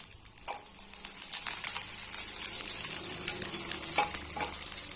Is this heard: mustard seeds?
yes